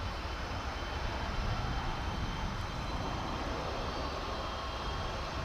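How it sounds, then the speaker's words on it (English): An airliner takes off at DFW airport, its jet engines producing a broad, steady roar that stays loud and fairly close throughout with no voices heard. "There's a plane actually taking off."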